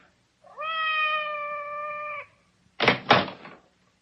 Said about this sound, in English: Outside the door. It sounded like Madame's cat, Francois.